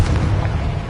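A spell explosion in Hogwarts Legacy, a loud booming blast with a rumbling low-end tail that fills the short moment.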